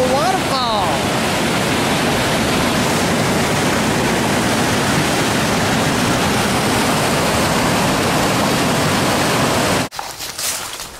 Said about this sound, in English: I'm on top of a waterfall!